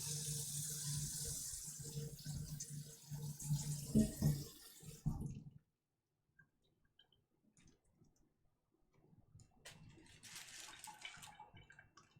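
Hot water gushes from a tap for about five seconds, steady and fairly loud with a few clicks and knocks, then cuts off to near silence before faint rustling and handling noises return.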